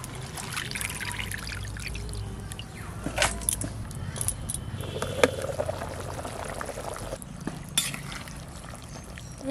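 Sour wild fruits washed by hand in water, with steady sloshing, trickling and splashing, scattered sharp clinks and knocks against the container, fairly close and alone without talk.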